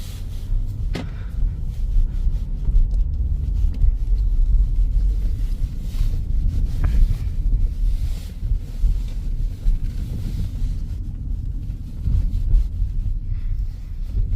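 A 2021 Audi Q7 Premium Plus drives around the block on a clear December day, a steady low road rumble with wind buffeting the microphone throughout.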